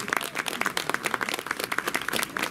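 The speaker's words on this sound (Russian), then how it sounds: "Ребят, аплодисменты." Applause for a finalist at a drummers' contest awards ceremony: a small group clapping in quick, uneven bursts, close and fairly loud, with no talk over it.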